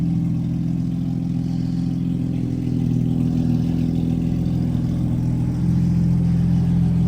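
A BMW F8x engine fitted with an Active Autowerke equal length mid-pipe idles loud and close, its deep drone swelling as the revs climb and settle in steady, sustained bursts with no talking.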